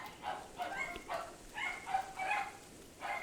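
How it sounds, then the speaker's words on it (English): Several dogs bark in overlapping bursts just outside a door, a steady chorus of repeated barks and yips that comes and goes over a few seconds with no talk. "I'm sure you hear my dogs bark."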